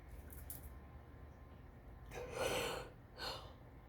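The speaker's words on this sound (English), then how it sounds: "I don't know why I'm yawning." A single drawn-out yawn from a woman, a breathy exhale swelling and fading over about a second, followed by a shorter breathy trailing sigh, close and fairly quiet with no talk.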